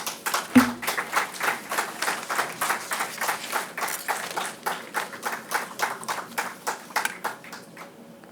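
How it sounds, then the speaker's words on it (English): A crowd claps steadily for several seconds at a university convocation, a sharp ping at the start, the applause tapering off at the end. "Let us put together to applaud the stellar graduate students who made it to the Dean's list."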